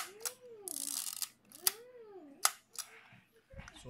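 Exakta EXA 1c film camera, shutter cocked and released several times: sharp mechanical clicks and snaps with short winding rasps between them, close and quiet, no talking.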